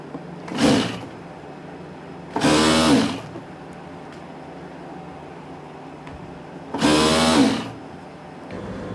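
A sewing machine stitching a trouser seam with a half-inch allowance, heard as three separate loud bursts of running, each about half a second to a second long, with quiet pauses between them and no talking.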